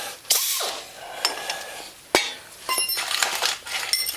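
A ratchet tightens a 17mm lock nut on a 14mm bolt during a Honda Rancher 420 lift kit install, with metallic clicks, clinks and clacking in short irregular bursts.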